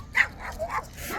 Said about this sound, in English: So many dogs here.